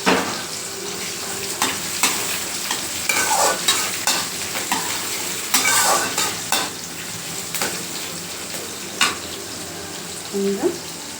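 Onions sautéing in hot oil with mustard seeds, fenugreek, cumin and curry leaves for a broad bean kara kuzhambu, a steady close sizzle broken by repeated spoon-stirring scrapes, with no talk.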